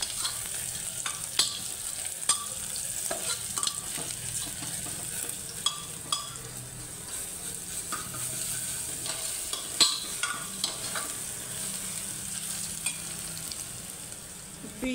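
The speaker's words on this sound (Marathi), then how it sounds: "गरम मसाले, तेजपत्ता आणि शहाजिरं, दालचिनी, लवंग वगैरे हे एकदा परतवून घ्यायचं।" Whole garam masala spices such as bay leaf, black cumin, cinnamon and cloves sizzle and fry in a pan with ginger-garlic paste, with steady crackling and occasional stirring scrapes throughout, no talking.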